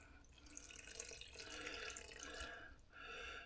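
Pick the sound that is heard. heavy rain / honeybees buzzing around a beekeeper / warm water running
warm water running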